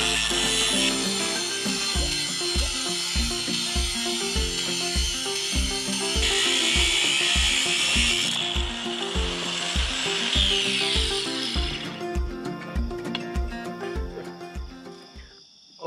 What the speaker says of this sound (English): Same size diameter wheel, but the thinner one just motored right through that.